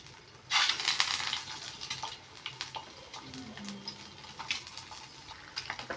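Eggs frying in oil in a pan for an egg fry dish, a steady broadband sizzle that flares loud at the start, then settles into a continuous crackle with scattered spits and a few utensil clinks.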